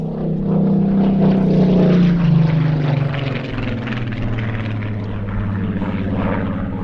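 A Spitfire propeller aircraft flies past at an airshow, its engine giving a loud, strong drone that peaks early and then eases into a steadier, slightly softer hum.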